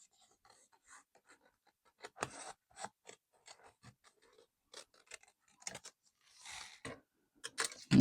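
Scissors cutting out collage paper for a small postcard-sized bookmark, close quiet snips and rustles in irregular bursts, growing a little louder and busier toward the end.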